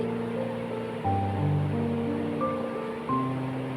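Chopped onions fry in hot ghee with a steady, even sizzling hiss, while sustained tones play in the background.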